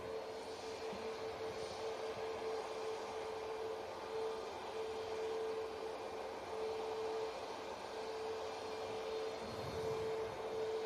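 A SunExpress airliner lines up on the runway at Manchester Airport, its jet engines producing a steady distant whine and rumble with a sustained tonal hum throughout.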